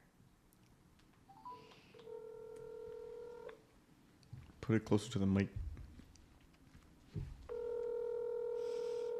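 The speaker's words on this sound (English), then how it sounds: "Well, that's 2 rings now." A telephone is dialed on speakerphone, and its keypad tones beep in short bursts. Each burst is followed by a long, steady ringback tone. A person speaks briefly in the middle of the sequence.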